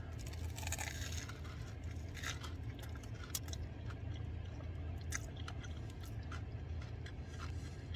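Crunchy, wet chewing of a grilled cheese sandwich on sourdough with jalapenos, avocado, tomato, mayo, ham and American cheese, close and repetitive bites with soft squishes and no talking.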